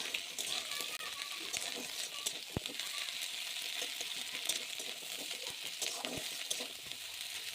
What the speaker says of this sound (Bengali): আর পেস্টটা আমি কড়াইয়ে দিয়ে এবার ভালোভাবে নাড়িয়ে চাড়িয়ে নেব।